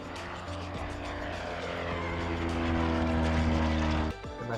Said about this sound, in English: My instructor got some photos and videos as I started plane, taxied, took off,